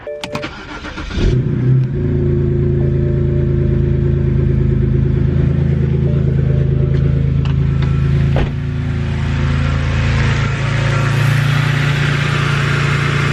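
A BMW 328i cranks over and catches, then settles into a steady, loud idle close by, the engine note holding even throughout with a slight shift near the end.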